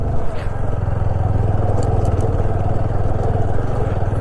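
A motorcycle rides slowly and gently along a difficult mountain road in Zanskar, Ladakh: a loud, close, steady engine drone with rattling clatter throughout.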